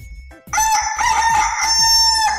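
A rooster crows a long, loud cock-a-doodle-doo close by, sustained and rising, over a light backing track.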